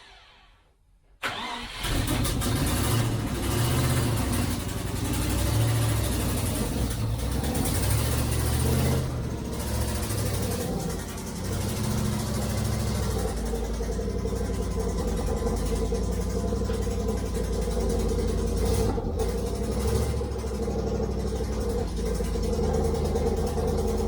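A 1973 Range Rover engine, carburettors linked, idles steadily and loudly after a brief quiet start, a rough low rumble with a leaking exhaust puffing through it, running alone without talk.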